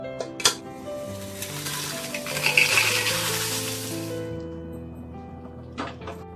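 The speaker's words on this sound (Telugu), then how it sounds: "ఇదే విధంగా పెట్టుకున్నటువంటి ఎండుమిరపకాయలన్నీ కూడా వేయించుకోవాలి." Dry red chillies fry in a pan with a soft, steady sizzling hiss that swells and then fades, framed by sharp metallic clinks near the start and end.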